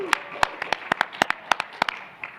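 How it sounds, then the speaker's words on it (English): Audience applause at a comic convention panel, a brisk run of separate sharp claps over about two seconds, close and fairly loud, with a voice briefly under them. "Give him a round of applause."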